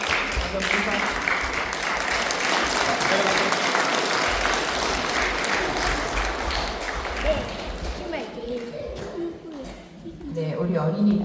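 Congregation at a Sunday Won Buddhist service applauding in a long, dense burst of clapping that fades somewhat near the end, with voices mixed in.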